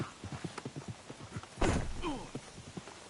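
Horse hooves clip-clop at a steady walking pace in the Red Dead Redemption 2 video game, moderately close, with a brief burst of noise partway through and talk over the steps.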